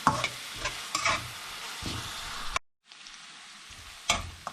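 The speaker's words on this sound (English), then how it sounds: "I've been frying for 5 minutes." Oil crackles and sizzles as a pan of sweet tomato chutney with South Indian flavors fries and is stirred, with scraping strokes and a short silent break before the frying resumes.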